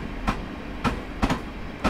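A Class 444 train rolls past in Train Simulator 2019, heading for Portsmouth Harbour, steady rumble with rhythmic clickety-clack wheel beats over rail joints, moderately loud and close, no voices.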